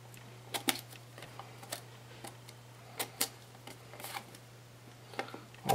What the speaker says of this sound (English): I'm just going to go into the corner and cut.